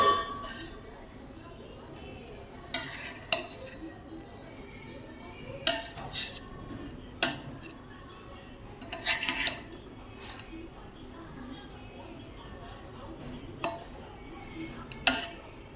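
Cooked black chana pulao rice is served onto a plate, heard as scattered clinks and scrapes of a metal spoon against the pot and plate, spaced irregularly over a quiet background.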